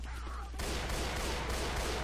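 Sustained bursts of automatic gunfire in the zombie shooter Left 4 Dead 2, a loud continuous rattle that kicks in after a brief quieter moment and carries on to the end.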